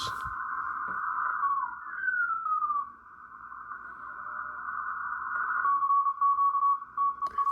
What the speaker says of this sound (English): Now this one has a 500 hertz CW filter. Listen to that filter.